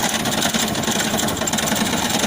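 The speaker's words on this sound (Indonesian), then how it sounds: "traktor" A four-wheel tractor engine runs steadily and loudly close by while it clears old papaya trees from farmland, giving a continuous rough mechanical drone with no talk.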